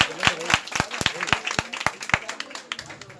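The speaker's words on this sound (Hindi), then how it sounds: "ताली बजाकर उनका हौसला तय करें" Audience at a school ceremony honouring a student, clapping in a sharp, fairly rhythmic burst of claps that thins out and fades toward the end.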